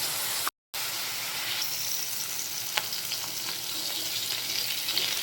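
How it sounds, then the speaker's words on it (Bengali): Cauliflower florets fry in oil in a pan for a no-onion, no-garlic roast, giving a steady close sizzle and hiss with occasional sharp pops and crackles. A brief silent gap interrupts the sound near the start. "উল্টো দিকটা দিয়ে দিয়েছি যাতে উল্টো দিক সাইডটাও এরকম লাল লাল করে ভাজা হয়ে যায়"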